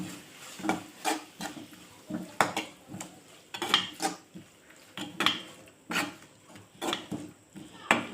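Onion garlic paste sautéing in a pan for garlic kuzhambu, with repeated scraping and clinking of a spoon against the pan in an uneven rhythm, close and moderately loud, a voice faintly in the background.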